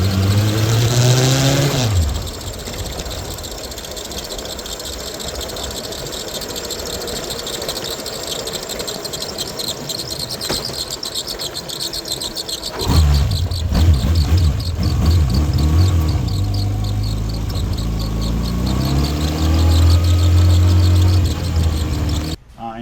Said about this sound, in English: My motorcycle has a little squeaky in the front.